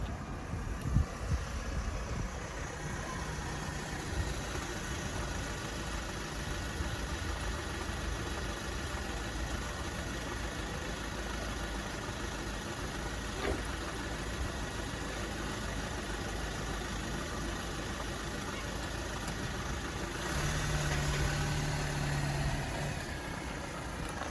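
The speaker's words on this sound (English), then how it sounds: "we've got light vehicle there coming in" A light vehicle pulls in and idles, its steady low engine rumble continuing at moderate distance throughout, with a slight swell in engine noise near the end.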